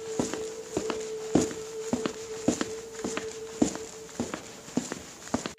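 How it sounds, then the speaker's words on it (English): Footsteps walking along a country lane at night, a steady series of about a dozen hard, clacking steps at an even pace, moderately close, over a constant background hum with no talking. "I was convinced that I heard footsteps behind me"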